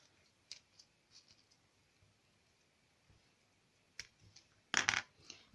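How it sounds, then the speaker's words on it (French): Scissors snip through material while a paper fan is being made, faint clicks early on and then a quick pair of crisp, close cuts near the end in a quiet room. "Donc je vais les couper."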